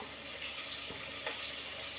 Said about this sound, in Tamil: இப்போ வந்து நான் இந்த ஸ்டவ்வில் ஃபிஷ்ஷை ஃப்ரை பண்ணிடுறேன்